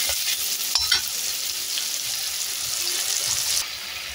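A tomato masala with turmeric is stirred in a hot pan. The steady sizzle is broken by a few knocks of the spoon against the pan early on, and no one speaks.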